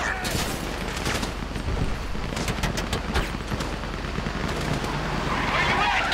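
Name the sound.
gunfire in video game Grand Theft Auto 5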